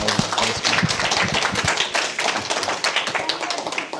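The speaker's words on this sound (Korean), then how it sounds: "좋은 강연인 선생님께 큰 박수 부탁드립니다" Dense audience applause at the end of an author's talk, many hands clapping at once in a steady, loud patter that continues throughout without any voices.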